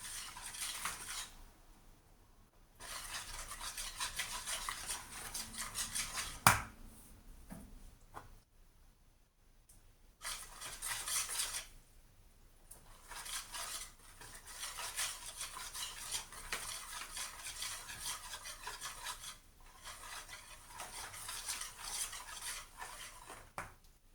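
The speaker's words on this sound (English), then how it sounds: "I'm going to add it a little at a time, mixing it out." A spoon stirs and scrapes a pumpkin pudding mixture with coconut milk and flour in a pot, steady rubbing and clinking in uneven stretches with short pauses, fairly close and with no voice.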